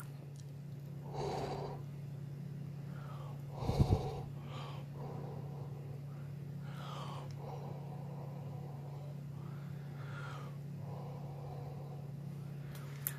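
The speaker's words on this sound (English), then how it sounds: "So as I was breathing on it" Human breath blown onto an air temperature probe of a pyrometer thermometer set, heard as several soft, airy exhalation puffs spaced across a steady low electrical hum, with one louder close burst near the start.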